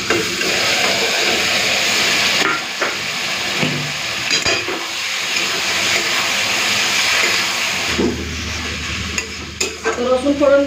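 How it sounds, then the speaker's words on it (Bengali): Chopped ash gourd poured into hot oil with fried garlic, setting off a loud steady sizzle and hiss that continues for several seconds, with occasional stirring clatter near the end. "এখন আমি চাল কুমড়োটা ঢেলে দেবো।"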